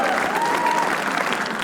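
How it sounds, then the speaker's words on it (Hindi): Audience applause in a comedy roast show setting, steady dense clapping throughout with a faint sustained tone running under it. "तालियां उनके लिए प्लीज।"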